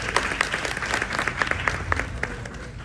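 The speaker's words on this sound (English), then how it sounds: "give her a big round of applause," An audience at a high tea event in Washington, DC applauds steadily. Clapping is full and continuous, with a few crisp individual claps standing out, and holds an even level throughout.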